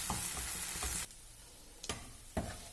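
Millet puliyogare paste being stirred into cooked navane rice, soft close scraping and mixing that drops away midway, followed by two sharper scoops or knocks near the end.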